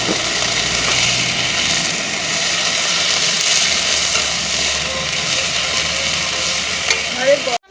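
A ginger and cumin paste fries for a tilapia curry, making a loud, continuous sizzle with occasional stirring and a low hum underneath.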